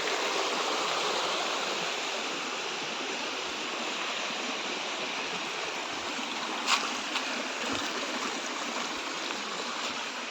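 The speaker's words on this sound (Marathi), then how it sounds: "हा वरचा व्ह्यू ओझरडे धबधबा." Water rushes steadily over the Ojharde waterfall at Navaja, heard from the top as a dense, unbroken roar, with one faint tap partway through.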